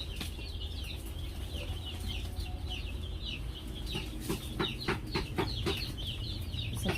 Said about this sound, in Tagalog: This is Rhode Island Red.